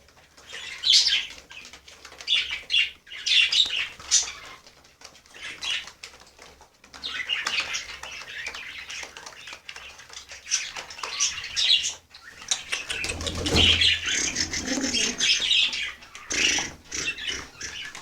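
Birds being fed flap their wings in repeated bursts, loud and close, with chirps and calls scattered through the flurries and brief lulls between them.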